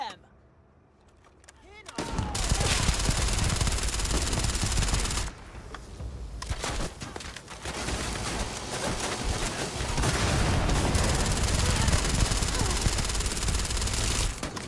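Loud, dense gunfire erupts in a Starfield firefight, sustained bursts of shots running almost continuously for over ten seconds with a short lull in the middle, close and harsh, with voices mixed in.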